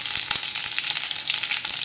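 Mustard seeds crackle and sizzle in hot oil in a kadhai, giving a dense hiss dotted with quick pops at steady, moderate loudness throughout.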